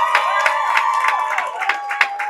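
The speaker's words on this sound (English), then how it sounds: "Guys, give them a round of applause." A crowd at a motivational Super Saturday event breaks into steady applause and cheering, with a tone held underneath. Individual claps come through in loose bursts and the cheering stays high and continuous throughout.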